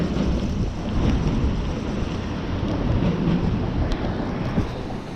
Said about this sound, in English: Yep, rain's coming down now.